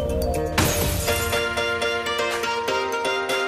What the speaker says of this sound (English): use the glass breaker tool at basagin ng salamin. Make sure to cover your eyes when you smash the glass.